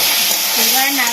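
Turmeric tipped into a hot pan while cooking a mango and eggplant chutney, a loud, close, steady sizzle with a faint voice-like tone in the middle.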